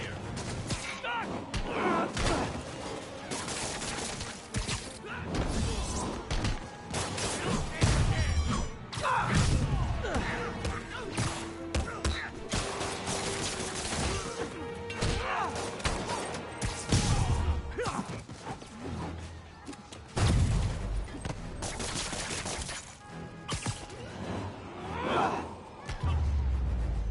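Gunfire and combat noise in the Spider-Man PS4 video game, with dense thuds, crashes and bursts running nearly constantly under a loud game soundtrack, and voices shouting over the action.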